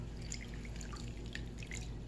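Water trickles and drips onto a Bulgarian banitza layered with feta cheese, a steady close pour with small wet splashes over a low background hum.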